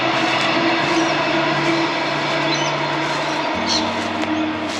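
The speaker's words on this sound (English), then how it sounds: "That was a train" A train passes between Meadowbrook and Kingston stations in Logan City, a loud, steady rumble with humming tones and faint wheel squeal. The pitch shifts partway through as it rolls by close at hand.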